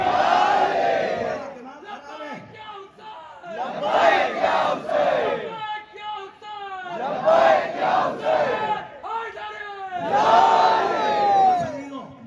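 A large crowd at a Shia religious gathering roars the Haidari slogan in unison, repeated in several loud collective bursts with brief pauses between, the many voices close and full.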